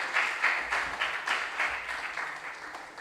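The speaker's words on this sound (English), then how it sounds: "Please, the applause was so short." Brief bursts of audience clapping at a school science and maths quiz competition, a few short pulsing waves of applause of moderate loudness.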